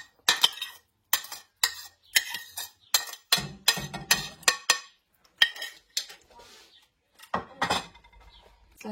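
Strawberries are dropped into a cooking pot in a series of sharp, close clinks and clatters, about a dozen distinct impacts with short gaps, then quieter handling noises.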